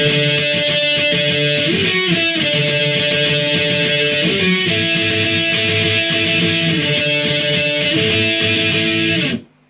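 Distorted electric guitar strums a steady chord riff from a song with rhythmic chord changes, loud and continuous, then cuts off abruptly at the end.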